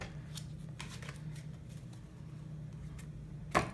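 Soft, faint tarot card shuffling with light riffling flicks over a low hum, ending in a sharper snap.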